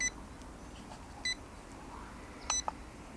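Button on the controller of a Xiaomi FunSNAP iDoL selfie drone gives short electronic beeps, one near the start, one after a second and a double beep near the end, faint over quiet room noise.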